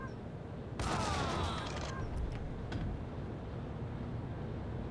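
A gunshot from a trick shot in Max Payne rings out after a quiet start, followed by crackling and a trailing echo, a few fainter pops, and then a low ambient hum.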